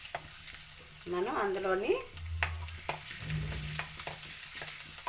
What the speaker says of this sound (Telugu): అందులో వెల్లుల్లి, అల్లం మనం వేసుకుంటాం. అది ఫ్రై అవుతుంటుంది.